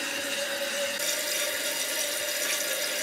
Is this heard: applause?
no